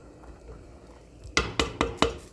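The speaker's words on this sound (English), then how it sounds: "Water's boiling. I added salt. There's the pasta. Let me do a little stirry stir" A spoon or utensil knocks four times in quick succession against a pot of boiling salted pasta water while the pasta is stirred, sharp clinks after a quiet, low simmering background.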